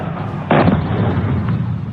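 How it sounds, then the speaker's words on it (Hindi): A military strike on an air base explodes in a single loud, broad blast burst about a quarter of the way in, followed by a rumbling tail, with a fainter thud near the end over steady background noise. "This is the strike on the Noor Khan Air Base"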